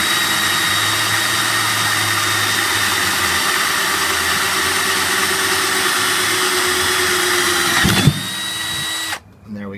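A power drill with a lubricated 3/16 bit whines steadily and loudly while boring a hole in a metal ammo box, then bites through with a brief grinding burst and winds down.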